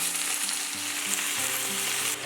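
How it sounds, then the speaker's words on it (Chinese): Glutinous rice potstickers pan-frying under a lid until the bottoms turn golden and crisp, a loud, continuous close-up sizzle with a low humming tone underneath, steady from start to finish. "把底面煎定型，底部像这样煎至焦黄酥脆"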